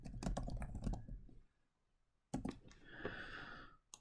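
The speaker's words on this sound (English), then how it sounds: "Having a little trouble typing." Hesitant typing on a computer keyboard, close clicks in two clustered bursts separated by a near-silent pause, with a faint tonal whine under the second burst.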